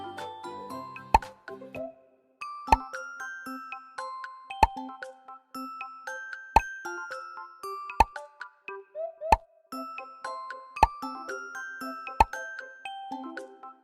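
Bubbles pop one after another when tapped in a children's number game, each pop a crisp plop followed by a bright chiming tinkle, about eight evenly spaced pops over a soft melodic background.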